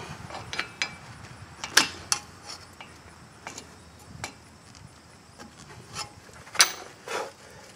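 A front left wheel speed sensor on a 2005 Chevrolet Suburban is worked back and forth to loosen it, producing faint scattered scraping, creaking and clicking sounds in irregular bursts close by.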